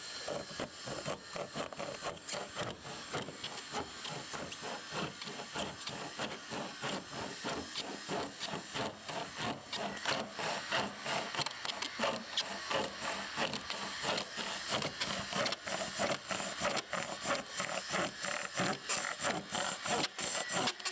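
A metal stud for an ICF concrete wall is being cut with a saw, giving a steady rapid rasping chatter with harsh hiss that goes on for the whole stretch at moderate volume.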